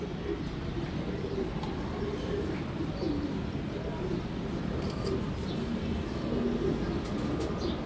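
Pigeons in a home loft coo continuously in soft, overlapping rolling calls, close and steady, with occasional chirps and a faint background hum throughout.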